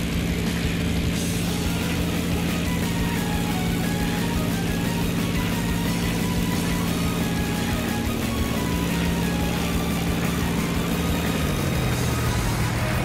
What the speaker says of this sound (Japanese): このバカでかいエンジン音は間違いなく早手ですね。